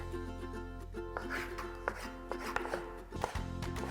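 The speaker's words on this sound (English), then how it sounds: "We are done with the chopping here." A knife chops vegetables such as onion, green bell pepper, chilies and tomato on a board, with steady, fairly close strikes under a low constant hum and a few sharper knocks near the end.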